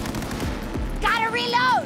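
Rapid bursts of automatic gunfire in the video game Cyberpunk 2077, sharp close shots in quick succession followed by synthetic electronic weapon whines and zaps.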